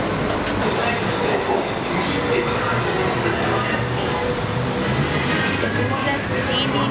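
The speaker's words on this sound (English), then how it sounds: "Just standing and waiting for the sky train right here." Sky train pulling into an elevated station in Thailand, a loud, continuous rolling rumble and rail noise that fills the whole stretch with no pause.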